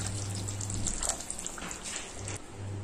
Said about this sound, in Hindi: अभी हम इसमें इमली का पानी ऐड कर रहे हैं